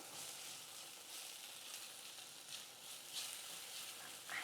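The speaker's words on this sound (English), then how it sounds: "a little bit more with the searing" Food searing in a pan of oil on a stovetop beside a pot of pasta, a steady, fairly quiet hiss of sizzling with a few small pops and crackles throughout and no voices.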